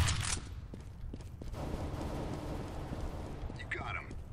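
Counter-Strike: Global Offensive gunfire crackles in quick, fairly faint bursts, with a rough texture of shots under quiet game noise and a brief sharper burst near the end.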